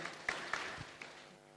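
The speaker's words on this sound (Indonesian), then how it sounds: "Boleh kasih tepuk tangan ya Ibu Bapak?" Wedding guests at a holy matrimony ceremony give brief, soft applause, a few distinct claps over a faint hall ambience that quickly fade out.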